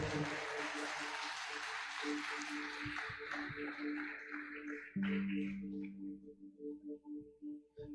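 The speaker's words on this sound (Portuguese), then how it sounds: "Dê um forte aplauso ao Senhor." A church congregation applauds loudly in a dense wash of clapping that thins after a few seconds and dies away into scattered, fading claps.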